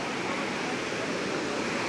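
Water overflows from the brimming Fateh Sagar lake in a steady, loud, close rush of pouring water, with no other sound.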